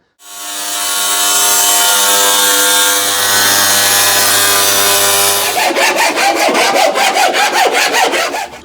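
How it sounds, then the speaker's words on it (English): A power tool cuts excess sheet metal off a Ford Capri door skin, a loud steady whining cut for several seconds that shifts into a rapid, regular rasping stutter. "We've got too much excess material here, so I'll come down, I don't know, pick a number, probably 13, 14 mil, and we'll cut that off."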